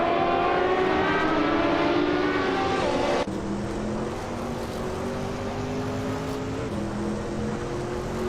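Group 5 race cars, including a 1978 Porsche 935/78, roar off the start at the Bernese Alps Festival track in a racing game, engines revving high then dropping to a steady rising drone.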